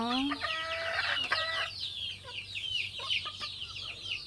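A native hen on a small chicken farm clucks close by in a run of rising, throaty calls, then breaks into softer scattered clucks and chirps as a quiet voice speaks in the background.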